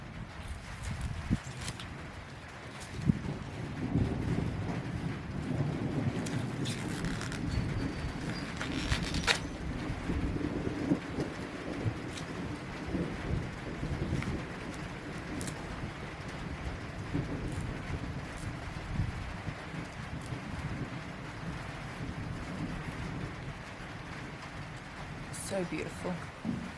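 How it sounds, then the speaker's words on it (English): Rain falls steadily during a rural thunderstorm, with low rumbles of thunder rolling underneath and the odd sharp crack, continuous and moderately quiet throughout. "I'm going to enjoy the process and the sound of the storm."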